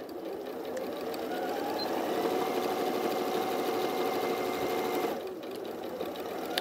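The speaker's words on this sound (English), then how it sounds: "All I'm doing here is I'm sewing four strips to make eight strips." A sewing machine stitches fabric strips together in a long steady run, humming and rattling close up before briefly easing near the end.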